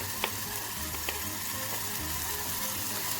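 Steady sizzling of blended tomato paste in a hot pan, with a few soft clicks and scrapes of stirring over the continuous frying hiss.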